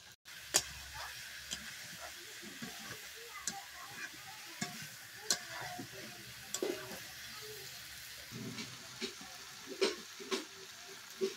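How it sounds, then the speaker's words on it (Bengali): Chicken sautéing with fenugreek leaves in a pan, a soft continuous sizzle punctuated by regular sharp spatula clicks and scrapes against the metal, close and fairly quiet. "এই যে আমাদের কষানো হয়ে গেছে মাংসটা"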